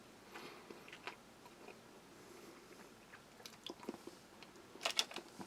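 Firm, crispy-shelled mint gum from a Czech army combat ration is chewed close up, with soft wet crunches and squishes that grow into sharper crackles toward the end.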